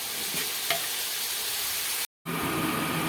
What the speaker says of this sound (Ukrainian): Підсмажуємо до прозорості цибульку.